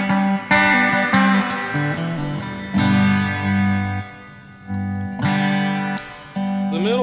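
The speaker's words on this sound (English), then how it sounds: "bridge pickup sounds like this." Electric guitar on its bridge pickup, in a home recording studio, plays a repeated riff of sustained notes and chords with a bright, twangy tone, loud and close.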